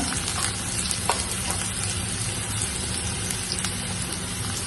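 Chopped carrot, ginger and shallots fry in a hot pan for Kerala-style upma, giving a steady, close sizzle with a few light stirring knocks and no talking.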